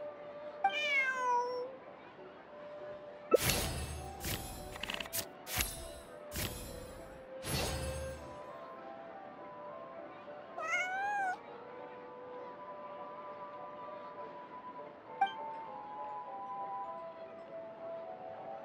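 Cat meowing in Genshin Impact: a few separate drawn-out meows spread across the stretch, with a sequence of sharp clinks and thuds in the middle and a faint background tone.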